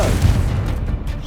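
A fiery Confringo spell blast in Hogwarts Legacy, a short heavy boom with a low rumbling body that rolls and fades over about a second, with no talking.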